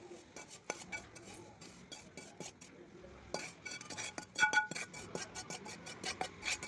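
Cooked suji laddu mixture is scraped from a pan onto a plate in a home kitchen, with repeated light metallic clinks and scrapes of utensil against pan, close and irregular, and brief faint talk in places.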